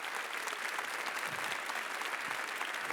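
Many hands in a church congregation clap for Jesus in a thick, even roar of applause that holds at full strength from start to finish.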